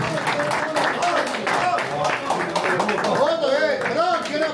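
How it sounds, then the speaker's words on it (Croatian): An audience applauding at a farewell for a man called Juka: dense, continuous clapping mixed with loud overlapping voices and shouting from the crowd. "Ajmo jedan aplauz za našeg Juku"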